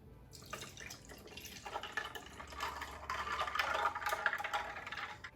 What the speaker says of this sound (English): now I'm going to pour some into my cup